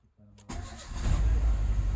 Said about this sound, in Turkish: Araba çalıştı.